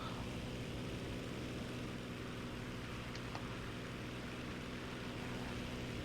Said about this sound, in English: there's a fighter coming in, looks like. Looks like a biplane.